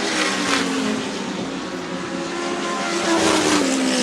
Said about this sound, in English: He'll put Andy Lunt down a lap as they race down the backstretch.